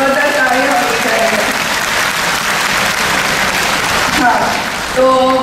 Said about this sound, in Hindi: इसलिए इस बार जोरदार ताली होनी चाहिए।